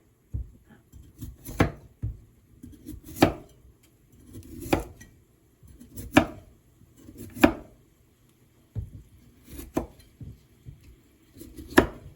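A knife chops through vegetable stems on a cutting board in sharp, separate knocks spaced a second or so apart, close and quiet, with no talking.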